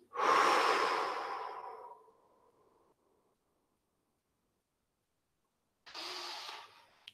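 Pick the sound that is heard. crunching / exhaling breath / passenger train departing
exhaling breath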